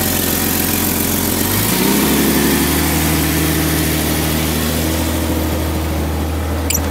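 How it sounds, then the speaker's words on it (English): A 1998 Jeep Wrangler engine idles steadily and close by, a low even rumble that settles into a constant hum after a brief shift near the start. "This engine does run great and the oil is clean."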